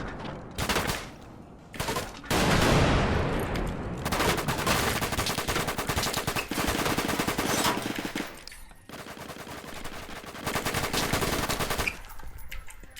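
Gunfire in the Roblox game Jailbird comes as loud, rapid automatic bursts and sustained volleys, with short pauses between long strings of shots.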